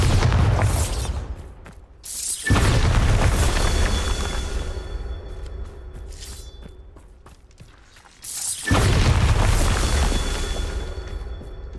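The Bombarda spell goes off in the video game Hogwarts Legacy as two loud booming explosions a few seconds apart. Each blast is heavy and deep, with rumble, debris and magical shimmer trailing after it, and no talk is heard.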